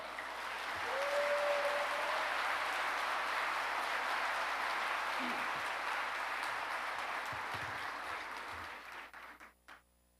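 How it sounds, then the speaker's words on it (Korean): A large church congregation at an anniversary national assembly gives sustained, warm applause to welcome the pastor, a steady roar of clapping for about nine seconds that tapers off, with a brief tone near the start. "목사님 나오실 때 크게 박수로 뜨겁게 환영 한번 해주시면 고맙겠습니다"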